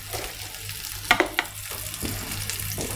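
Pork meatballs browning in a hot frying pan, a continuous sizzle with a few sharp crackles and spits near the middle and a low steady hum underneath.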